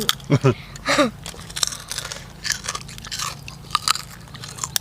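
Someone bites into food that is crispy outside and soft inside, giving a few sharp, close crunches followed by softer chewing, while people talk nearby.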